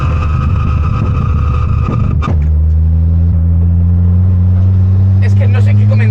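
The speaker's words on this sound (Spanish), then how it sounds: "¿Queréis que active el anti-lag y escuchéis el coche?" A 1980s Ford Escort fitted with a roughly 300 hp rally engine, anti-lag switched on: a loud, close engine drone drops abruptly into a deep, steady low rumble, with crackling pops near the end.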